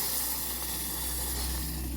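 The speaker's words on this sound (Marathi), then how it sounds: "चवीनुसार मीठ घालायचं मग तुपामध्ये पाणी घालून घ्यायचं" Water poured into hot ghee hisses and sputters steadily in a pan, a loud continuous sizzle with no talk, kept up for the whole stretch.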